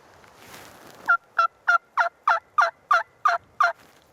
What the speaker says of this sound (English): you can also bring that high pitch part of a turkey call to sound something like this.